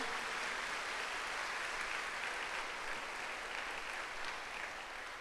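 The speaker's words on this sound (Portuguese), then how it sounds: "Vamos dar uma salva de palmas a esta palavra" A church congregation applauds strongly during a sermon, an even, sustained wash of many clapping hands at moderate distance, fading slightly near the end.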